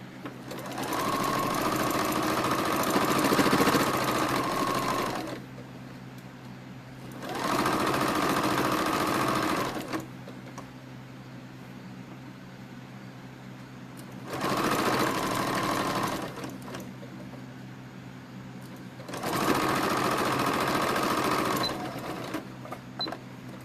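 Sewing machine stitching slippery plush velvet velour fabric for bat shapes, running in four steady whirring bursts of a few seconds each, separated by quieter pauses with low background hum.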